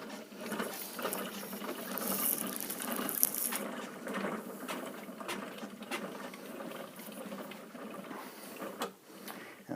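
Single treadle sewing machine running: a continuous, fairly quiet mechanical whirring and rapid pattering stitch rhythm, steady throughout with no voices.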